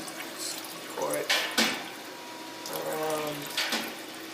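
Root beer concentrate is poured slowly into water during a historical brew day, giving a soft, uneven splashing and trickling with a few louder gurgling surges, close by and moderately quiet.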